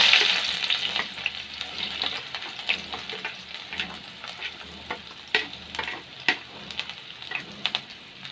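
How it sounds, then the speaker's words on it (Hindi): A small, finely chopped onion frying in hot oil for beef macaroni, a bright continuous sizzle, loudest at the start, with scattered spatter pops and occasional stirring scrapes, close up and without speech. "दोस्तों ऑयल गर्म हो चुका है और अब इसमें ये एक छोटा सा प्याज लिया था हमने, छोटे साइज़ का, वो इसमें डालेंगे।"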